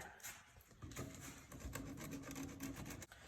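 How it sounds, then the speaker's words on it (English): Close, scratchy rubbing of a sanding block flattening cut dividers, with repeated back-and-forth strokes and no voices. "we're gonna go in there with a sanding block to be able to try to get these a little flatter"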